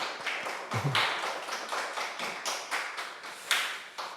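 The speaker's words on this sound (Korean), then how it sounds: "우리 박수로 환영하겠습니다" A small church congregation claps to welcome a visiting mother during Sunday service announcements, a modest group of hands, fairly close, with uneven sharp claps over about four seconds.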